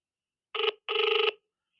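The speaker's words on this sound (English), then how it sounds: "There's me ringing them." A telephone ringback tone purrs twice, a short burst then a longer one, clear and close with silence around it.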